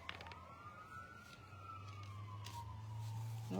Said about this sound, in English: Oh, I hear sirens going by.